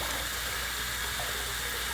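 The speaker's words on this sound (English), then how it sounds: "I got my faucet dialed to the hottest setting, and we're going to go ahead and put this into some hot water" Hot water running from a sink faucet at its hottest setting, a steady, loud, close hiss and rush that never varies, with no voices.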